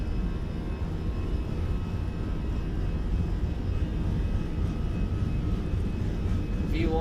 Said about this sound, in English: Sounds actually really nice, the plane.